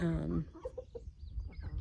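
A rooster clucks in short, soft bursts at close range, following a brief stretch of higher bird-like calling at the start.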